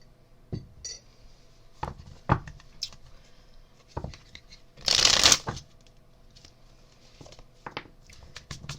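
A tarot card deck being shuffled nearby: scattered soft taps and slides of cards, then one loud, dense riffle burst at the middle, followed by more light card handling in quiet surroundings.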